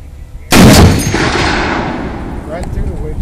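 A single loud, close .50 caliber rifle shot fired at a minivan booms out and then rolls away in a long, fading echo across the open range.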